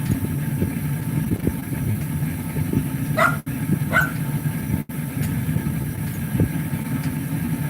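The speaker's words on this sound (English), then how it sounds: "Nothing I can do about the dogs there, Craig." Dogs bark a few times at a distance over a steady low engine idle, the barks short and spaced apart.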